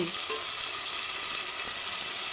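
Tomato pieces fry with tempering seeds in a pan, giving a continuous, even sizzle and bright hiss close up, with no voices over it.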